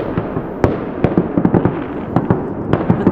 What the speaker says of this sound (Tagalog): Madami yung fireworks nila.